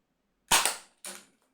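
X-Shot Kickback toy blaster firing at a small robot target, with one loud sharp snapping shot followed by a second, softer crack a moment later, close and with no talking.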